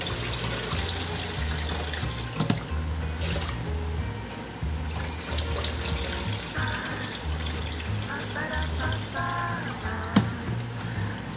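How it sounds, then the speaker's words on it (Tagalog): Rice is rinsed by hand under a running kitchen tap, with continuous splashing and gurgling water and light stirring throughout, close and fairly loud. "Hugasan lang natin to mga 4 na beses hanggang sa luminaw yung tubig."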